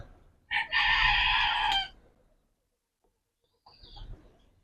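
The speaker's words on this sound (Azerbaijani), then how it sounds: "Neçə 3 fərə 1 xoruzdur." A decorative rooster kept with hens lets out a single loud, close crow lasting over a second, followed by a pause and then a softer, shorter call.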